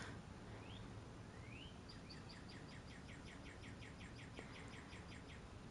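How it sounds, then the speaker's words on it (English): Birds chirping outside, faint and distant over steady background hiss: a couple of rising calls, then a long run of quick repeated trilling notes with no voices. "The birds outside are chirping away."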